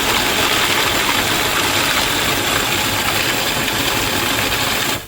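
A blender runs on frozen mandarin orange pieces for sorbet, giving a loud, steady, dense whirring roar that holds for several seconds and then cuts off abruptly at the end.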